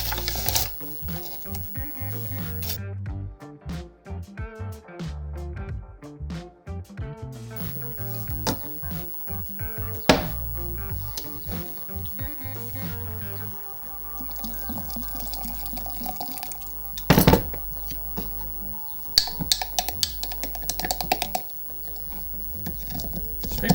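A knife scraping around the inside of a sourdough starter jar, giving repeated close scraping and tapping strokes in an uneven rhythm, with a few louder clinks against the glass and some faint trickling in between.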